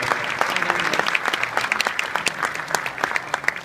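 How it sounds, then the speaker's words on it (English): An audience at an annual real estate company event in Overland Park, Kansas, applauds warmly, with sustained dense clapping from a sizable crowd that carries on throughout. "Give Steve a round of applause."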